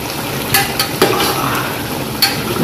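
Crab frying in hot oil in a pan, a steady loud sizzle with a few sharp scraping stirs cutting through.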